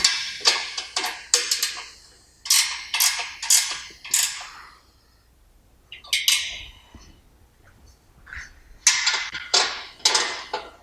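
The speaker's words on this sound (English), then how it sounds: "I use two 9/16 wrenches to tighten the front bolts." Two 9/16 wrenches tighten the front bolts on a CrossFire assembly. Bursts of rapid ratcheting clicks and metallic squeaks repeat in a steady rhythm, close and fairly loud, with brief pauses between strokes and no talking.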